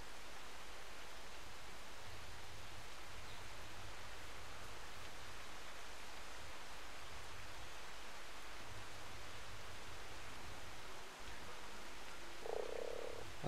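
Frog croaking in the survival game ARK: Survival Evolved, Genesis map, a steady low pulsing chorus repeating under a dense wash of rain-like ambient noise, with no talking.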